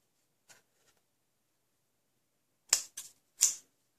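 Scissors snipping card stock while making a handmade greeting card: a faint early snip, then three crisp close cuts in quick succession near the end, with quiet gaps between.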